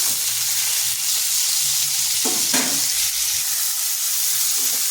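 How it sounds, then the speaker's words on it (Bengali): Pointed gourd (potol) and potatoes frying in a pan, with a steady bright sizzle throughout and a couple of brief louder stirring scrapes midway, close and alone with no talk. "পটলটাও একটু ভাজা ভাজা করে নিচ্ছি।"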